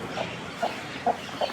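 Chickens cluck in a coop at a rural house in Kara-Suu, giving four short, fairly loud clucks spaced about half a second apart over a quiet background.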